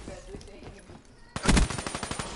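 PS4 video game gunfire: after a quieter stretch of muffled game noise, a sudden loud burst of rapid automatic shots, then a steady run of lighter repeated shots.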